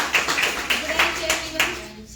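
Audience applause from a crowd at a Hindi-speaking gathering, a few sharp bursts of hand claps rising and fading over a steady background of voices and room hum.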